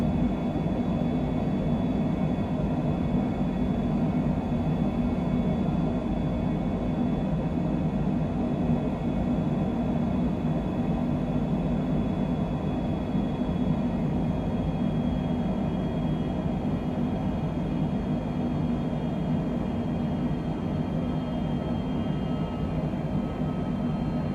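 An airliner is hand flown in Microsoft Flight Simulator 2020 on a Seattle departure, producing a constant loud cockpit engine roar and rumble that holds steady throughout.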